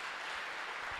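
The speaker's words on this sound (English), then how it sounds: "Shall we clap for Jesus?" A church congregation claps for Jesus in a brief, dense burst of applause, steady and fairly distant.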